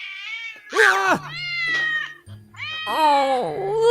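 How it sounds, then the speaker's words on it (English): Several cats meow loudly and close by, drawn-out rising and falling calls that overlap and run almost continuously, including a yowling caterwaul. "Oh, look at these cute little kitties."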